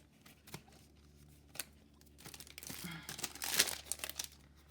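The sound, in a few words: chipboard stickers being pulled out of plastic packaging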